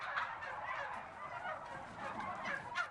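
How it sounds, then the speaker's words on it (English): Turkeys gobbling at a turkey farm, a dense flock raising continuous overlapping gobbles and chatter with a louder burst near the end, heard at moderate distance without talk. "Justin Collar stopped by a turkey farm to see how they're preparing"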